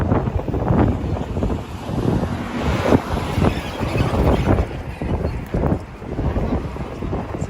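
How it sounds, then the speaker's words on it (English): Strong wind buffets the microphone on a Tokyo street, a loud continuous roar with gusty surges and rumbling low-end bursts, broken by brief lulls. "It's way too windy."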